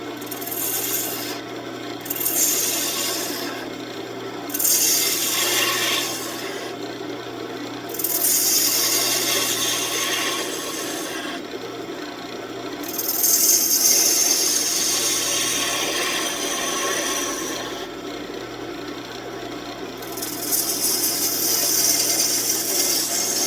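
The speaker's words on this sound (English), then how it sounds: "And our small gouge, let's round this over." A small gouge rounds over a spinning piece of wood on a wood lathe, producing a steady, close rasping cut that pauses briefly several times before resuming.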